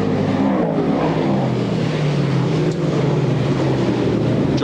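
Dirt-track stock cars roar past at the world's richest dirt stock car race, a loud continuous engine drone with a slowly shifting pitch filling the whole stretch.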